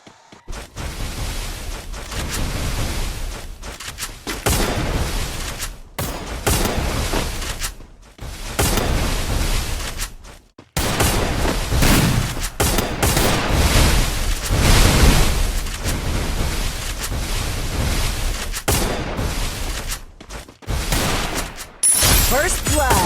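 Gunfire rattles through a shooting video game in loud, sustained bursts that keep breaking off into short silences before resuming, dense and booming throughout, with no voices over the shots.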